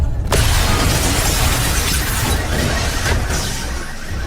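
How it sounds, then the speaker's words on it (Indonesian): A bomb explosion as a dramatic sound effect: a dense, roaring crash of noise with shattering debris that fills the whole stretch and tails off slightly at the end. "seketika bom meledak"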